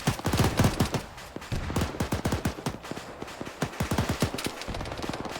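Heavy exchange of gunfire in the modded video game Arma 3 during a town-clearing fight on hills, rapid overlapping automatic bursts and single shots crackling loudly and continuously with no talk.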